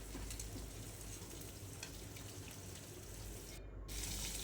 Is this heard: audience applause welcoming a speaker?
no